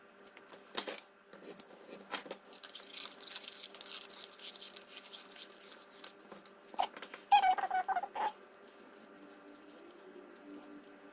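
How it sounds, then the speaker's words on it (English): Scissors snip out paper circles for a junk journal cover, a string of soft close crunching cuts and paper rustles in uneven bursts, with a louder flurry near the end and no speech. "let's just cut these circles out"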